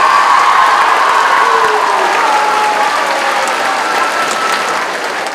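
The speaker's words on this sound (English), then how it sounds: "One more round of applause for everyone being here and made it to the last day of school." School audience applauding loudly on the last day of school at a talent show, a dense, continuous roar of clapping from a large crowd that tapers slightly toward the end, with no voices over it.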